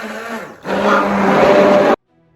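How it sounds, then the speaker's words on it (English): A Kenwood tri-blade hand blender whirring loudly through pancake batter in two close bursts, a short pause between them, then cutting off abruptly into silence. "I use my Kenwood tri-blade"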